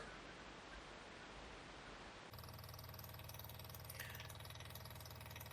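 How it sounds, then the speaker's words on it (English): A fuel pump aboard a Carver 3207 boat recirculates fuel on the starboard side. A faint background hiss gives way partway through to a steady, low, continuous mechanical hum that holds to the end. "That's a fuel pump running. I'm just doing a recirc on fuel on the starboard side."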